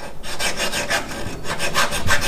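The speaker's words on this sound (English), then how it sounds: "Trying to grind down the weld and part of the old mount from the old steering box" Rhythmic back-and-forth rasping on metal as a weld and part of an old steering box mount are ground down, with about nine even gritty strokes, close and fairly loud, and no talking.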